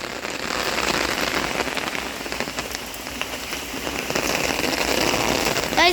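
Heavy rain falling and drumming steadily on surfaces nearby, a dense continuous hiss with scattered patters that stays loud throughout, with no voices over it.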